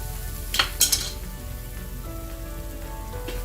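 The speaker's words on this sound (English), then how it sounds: "Give it a good stir. Make sure all of the salt and the powders are coating the beans." Seasoned green beans being stirred in a pan with a utensil: a few quick metallic scrapes and clinks early on over a faint, steady sizzle, then only low frying noise.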